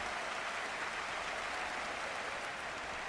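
Crowd applause in a Madden 23 football game broadcast, Vikings against Packers, for an injured player; a steady, dense wash of clapping that holds evenly throughout at moderate level, with no voices over it.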